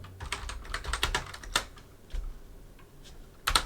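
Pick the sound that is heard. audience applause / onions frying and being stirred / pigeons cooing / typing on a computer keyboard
typing on a computer keyboard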